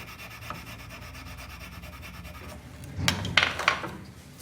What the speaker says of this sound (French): on intervient avec des pics marteaux qu'on va planter dans le feutre pour aérer le feutre